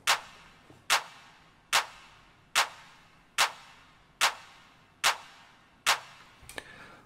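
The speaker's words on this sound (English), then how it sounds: "The last percussive element in this track is this clap that sounds like this." Eight evenly spaced techno claps from an Ableton stock sample, each sharp hit trailing into a long reverb tail, repeating at a steady beat with a quieter last hit.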